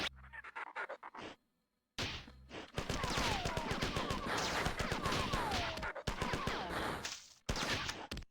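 Sniper gunfire rings out in the video game Marathon as sharp, rapid bursts of shots separated by short silent gaps, fairly close and fading in and out.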